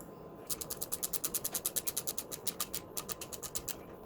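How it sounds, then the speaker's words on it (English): A ratchet tightens a hose clamp while fitting an intercooler to a Ford Focus XR5 / ST225, producing a close, rapid string of even clicks over a couple of seconds with a quiet background. "Just use a ratchet."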